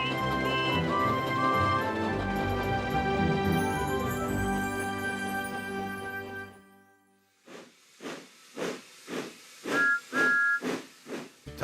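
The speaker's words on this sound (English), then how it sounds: "Who's that puffing down the track? It's Thomas!" Thomas the steam engine lets out a long loud whistle with hissing steam, then chuffs away in a steady rhythm of strong puffs, with another short whistle blast.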